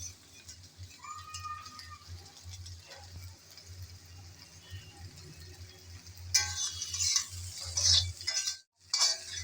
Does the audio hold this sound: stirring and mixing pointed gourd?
yes